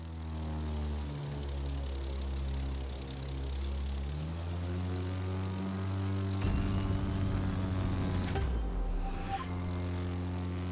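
A propeller airplane engine drones steadily as the plane flies a full loop in the racing game The Crew 2, the pitch sliding and rising while the engine strains, with a few brief whooshes near the end.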